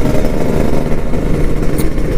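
A Kawasaki Ninja RR motorcycle engine runs loud and close, a steady throbbing two-stroke drone with no one talking.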